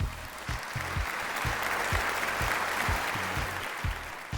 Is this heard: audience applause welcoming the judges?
yes